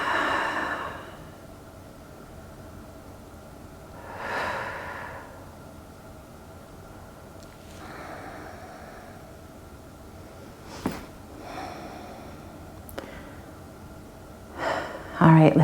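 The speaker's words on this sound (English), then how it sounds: "And breathe again." Slow, deep breaths drawn and released during a yoga flow session, several soft, breathy swells spaced apart over a quiet, hissy room, close to the listener.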